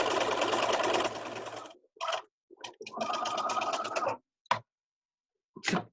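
A sewing machine finishes a seam on a cloth face mask, stitching in a loud steady run, then a second burst, followed by short clicks and a final brief whir, all close up with no talk.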